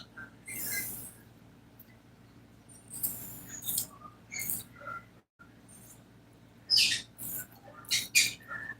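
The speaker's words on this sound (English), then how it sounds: "If you hear my birds in the background," Pet birds squawk in a house, sharp shrill calls in separate bursts over a quiet room background, fairly close and loud against the hush between them.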